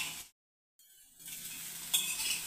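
Manohara sweet being turned over from the bottom of a pan with the gas switched off, a brief soft scrape and sizzle after a moment of silence, close and quiet.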